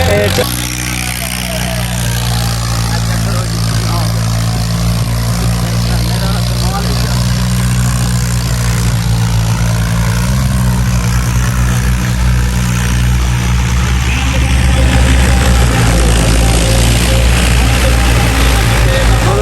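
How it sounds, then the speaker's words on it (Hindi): A tractor engine runs at a tractor fair in Mirpur, Azad Kashmir, with a loud, continuous low rumble and a steady mechanical drone that builds slightly toward the end, heard under crowd noise and voices. "آیا ٹریکٹر"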